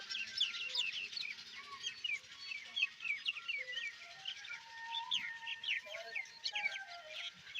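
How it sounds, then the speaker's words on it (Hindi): Chickens and a rooster call amid a busy chorus of chirping birds in a village, steady outdoor bird noise throughout with occasional clucks. "तारे खान की मुर्गियां यहाँ पर हैं। खूबसूरत मुर्गा"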